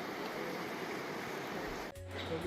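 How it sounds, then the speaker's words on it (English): Beaver Creek near Sedona, Arizona, running high at a low flood stage, gives a steady broadband rush of flowing water close by, with a brief low tonal sound near the end. "This is Beaver Creek. It's running pretty good right now."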